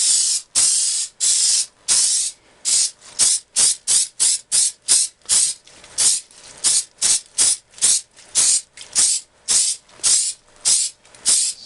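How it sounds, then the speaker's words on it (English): Jig-A-Loo lubricant sprays onto Rubik's cube pieces in a long series of short, sharp hissing bursts, roughly two dozen in quick rhythm with brief pauses between, close and clear. "So I'm just going to go ahead and spray all of these."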